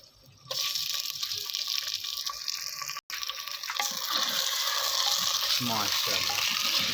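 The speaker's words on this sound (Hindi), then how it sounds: "प्याज हमारा ब्राउन हो चुका है जी। अब हम इसमें हल्का ब्राउन चिकन ऐड करेंगे।" Chicken added to browned onions in a handi over a village cooking fire, bursting into a loud, steady sizzle and hiss up close, with stirring scrapes toward the end.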